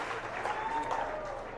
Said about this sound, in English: They're trying to clap Bondarchuk out.